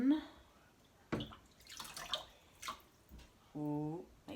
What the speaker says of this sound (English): I've got my bowl and I'm going to start with my ladle. And I filled it with water.